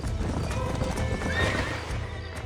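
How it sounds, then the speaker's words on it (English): Horses clip-clop steadily and neigh in the Red Dead Redemption video game, the hooves close and continuous with a whinny rising midway over a low ambient bed. "These are fine horses."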